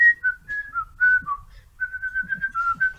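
A person whistles a bouncy tune of short, clear notes close by, with a brief pause midway before the melody carries on.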